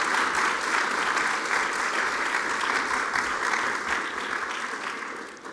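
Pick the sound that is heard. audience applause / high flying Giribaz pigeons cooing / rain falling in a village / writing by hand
audience applause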